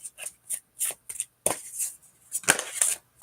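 Oracle cards being shuffled by hand, a run of quick crisp riffling bursts and soft slaps in an uneven rhythm, close and fairly quiet with no talking.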